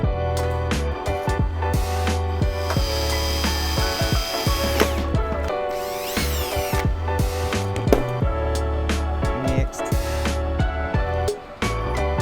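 A power drill with dull bits runs steadily, its motor whining as it bites into a hard fiberglass panel, with a few pauses, clicks and clatters between bursts.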